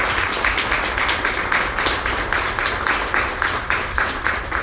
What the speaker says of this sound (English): So I just want to like round of applause for that